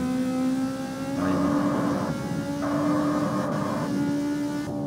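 Car engine in the street racing video game CarX Street, a loud continuous mechanical roar with two rising revs that climb and hold, near and steady, with no talking over it.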